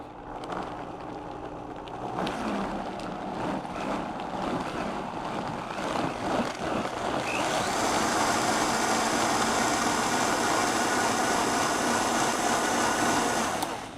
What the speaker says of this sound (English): I'm going to go ahead and blend it down because we don't want chunks of cashews in there